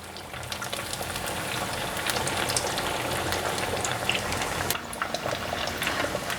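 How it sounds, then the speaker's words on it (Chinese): Yam slices deep-frying in hot oil, a steady dense crackle and bubble with many fine pops, close and even throughout with no talking. "翻面炸。"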